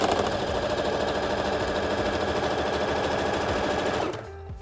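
A sewing machine runs a straight stitch along the bottom of a trouser pocket bag, a loud, close, fast rattling drone held steadily for about four seconds before cutting off abruptly.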